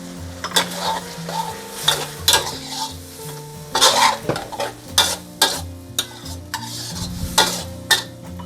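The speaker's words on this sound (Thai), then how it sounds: "แล้วเราก็ผัดเลยค่ะ จนกว่ากะเพราของเราสุก" Chicken offal with bamboo shoots and basil stir-fried in a Thai home kitchen: a steady sizzle in a hot pan under repeated scraping strokes of a spatula against metal, close and lively, with no talking.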